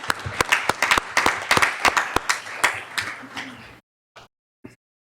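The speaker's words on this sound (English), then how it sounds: "clap it up for him, guys" Applause at a school board meeting: a small group claps in sharp, distinct slaps at close range, the clapping thinning out and stopping, followed by near silence with a couple of faint stray sounds.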